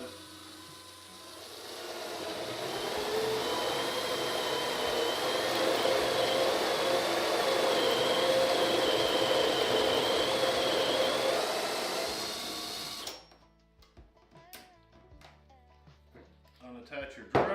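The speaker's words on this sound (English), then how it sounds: "Attach your drill." An electric drill mounted in a clamped hinge jig bores hinge cup holes into a wooden Shaker-style cabinet door, running loud and steady for about ten seconds with a grinding whine before stopping, followed by light workshop clatter.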